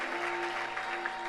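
Short, soft round of applause from a church congregation during a worship service, steady clapping over a faint background hum.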